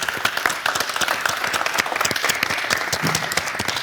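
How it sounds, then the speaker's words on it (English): Audience at a pitch event gives a round of applause for the participating teams: dense, sustained clapping from many hands, steady and fairly loud throughout with no speech on top. "So I think we should give a round of applause for the recent teams that participated here with us"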